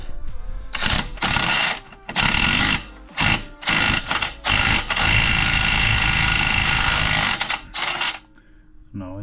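Wrench or ratchet work loosening a bolt on the rear suspension of a BMW E53, heard as loud, close bursts of metallic tool noise in an irregular stop-start rhythm, with one long sustained stretch before it tails off.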